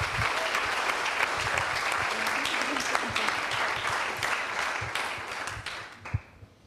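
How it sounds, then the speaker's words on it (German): Warm applause from an audience at a Jugend hackt youth hacking event in Heidelberg, a dense, steady wash of clapping that holds evenly for several seconds, then stops abruptly. "Ein großer Applaus für diese Gruppe bitte"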